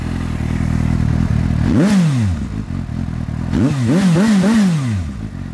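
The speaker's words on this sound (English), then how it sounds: "So it's got that classic Japanese sounding engine, that inline 4, which really makes it purr." A 2015 Suzuki GSX-S750 inline-four with a Yoshimura exhaust idles loudly close by, then blips its throttle in one sharp rev and later in a quick series of rising and falling revs.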